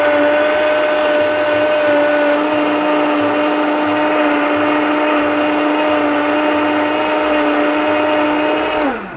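A kitchen blender mixing Brazilian lemonade with a loud, steady motor whine that runs continuously for several seconds, then winds down sharply as it is switched off at the end.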